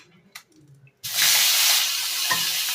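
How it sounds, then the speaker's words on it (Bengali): Potatoes dropped into hot oil in a pan for a Bengali shol fish dish, opening with a few small clinks before a sudden loud, steady sizzle that keeps going close by. "এবার এখানে আমি আলুটাকে ভেজে নেব।"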